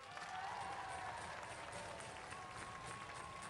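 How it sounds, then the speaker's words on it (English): A studio audience at a Robot Wars heat applauds in a faint, steady wash of clapping, with a thin tonal hum running beneath. "Give them a round of applause, ladies and gentlemen"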